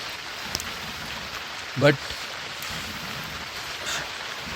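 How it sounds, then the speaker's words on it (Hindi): Rain falling on a mountain trek at Kedarkantha: a soft, steady patter of drops across the whole stretch, with a brief spoken word and faint voices in the mix. "ठीक है बारिश हो रही है"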